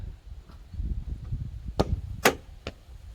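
A headlight assembly on a 2018 Ram truck latches into place, giving a few sharp plastic clicks and snaps over low rustling and handling noise, close up with no talking.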